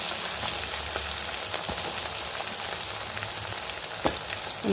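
Potatoes sautéed in a pan with softened tomato, green chilli and onion for a spicy tamarind curry, giving a continuous crackling fry with faint scattered stirring taps throughout.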